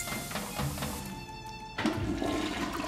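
A toilet in the video game Luigi's Mansion 3 flushes loudly with a rushing gush of water, and a second surge cuts in midway, with no voices over it.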